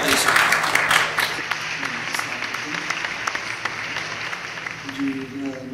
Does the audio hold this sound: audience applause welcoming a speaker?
yes